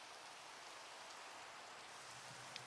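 Rain falls in Minecraft, a steady hiss of dense raindrops patter evenly, with a faint brief tick near the end and no voices.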